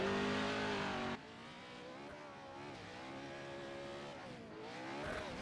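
A race engine in an iRacing off-road truck revs loudly, then drops and holds a wavering, harmonic-rich drone that rises and falls with throttle through the rest of the run.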